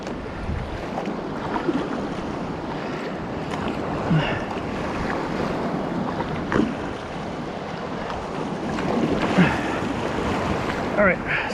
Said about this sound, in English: Yeah, waves just roll under me.